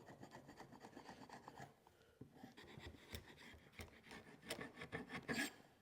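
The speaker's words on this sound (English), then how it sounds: "We'll use a chisel here to get some of this material off." A chisel pares material off a wooden workpiece: close, dry rasping and scraping strokes in an uneven rhythm, growing louder toward the end, with no talk.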